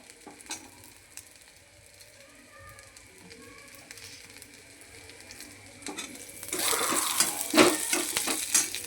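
Onion and garlic fry in a hot pan for a spicy potato bhaji, starting as a faint hiss with a few light clinks before the sizzle surges loud and crackling over the last few seconds.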